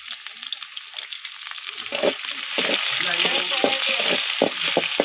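Onions fry in a pan, a steady close sizzle of hot oil with intermittent scraping and stirring clatter growing busier over the seconds, with no talking.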